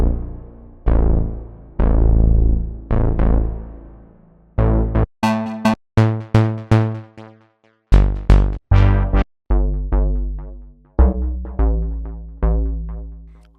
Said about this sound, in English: I think a squarey sound like this resembles their sound pretty good